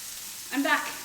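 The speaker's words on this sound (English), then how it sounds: "Listen to that sizzle." Steak frying in a hot pan for a Shoveltusk steak recipe gives a brief, moderately loud burst of crackling sizzle that rises after a quiet start and then fades.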